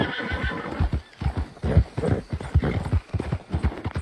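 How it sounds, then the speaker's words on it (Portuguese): A Kentucky horse in a video game trots with steady, close clip-clop hoofbeats and lets out a whinny, the hooves running loud and rhythmic throughout. "Olha esse cavalo aqui"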